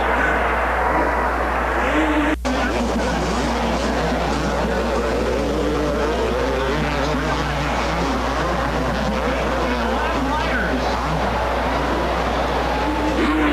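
Race cars circle the track during the 1985 Rodil Cup, a steady, dense engine roar from the pack that runs unbroken throughout, with faint commentary underneath.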